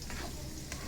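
Chickpeas tempered in hot oil give a steady, close sizzling hiss with faint stirring clicks throughout a short moment, no voices.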